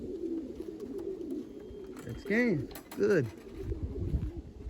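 A racing pigeon arriving home from a 250-mile race in McDonough, Georgia coos twice in quick succession, close and distinct, while someone speaks briefly nearby over light outdoor background noise.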